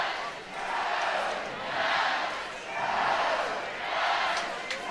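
Sold-out softball stadium crowd in Eugene, Oregon, a steady roar of cheering that swells and recedes in several waves, broad and loud across the whole stretch.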